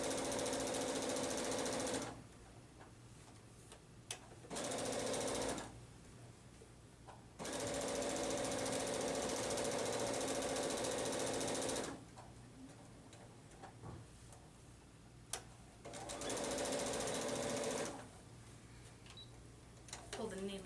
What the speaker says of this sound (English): you'll see that the lining of your bag and the outer portion of your bag begin to get stitched right together